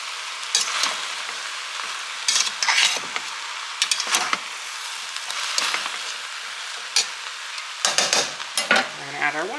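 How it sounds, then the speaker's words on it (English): A utensil scrapes and stirs through meat in a cooking pot, irregular scraping strokes over a steady sizzle close by. "I'm gonna stir this up just a little bit."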